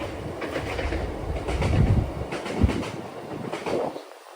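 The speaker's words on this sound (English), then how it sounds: "Sorry about the noise of the train." A train passes nearby a vegetable garden, its rumbling wheels and clattering swelling and fading over a few seconds before cutting off abruptly.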